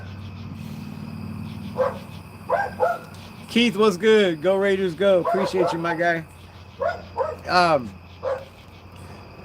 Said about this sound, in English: No, it's the neighbor's dog.